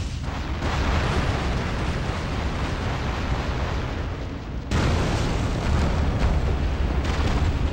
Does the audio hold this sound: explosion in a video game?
yes